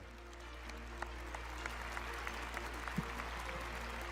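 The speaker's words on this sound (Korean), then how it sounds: "여러분, 큰 박수로 반기문 공동조직위원장을 모셔주시면 좋겠습니다." Audience applause at a Korean Peninsula peace summit report event, welcoming the summit's co-organizing chair to the stage; steady, fairly faint clapping from a seated crowd with a few sharper claps standing out.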